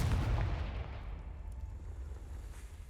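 A Confringo fire spell goes off in the Hogwarts Legacy video game, a loud booming blast with a heavy low rumble that slowly decays over about three seconds, with no voices.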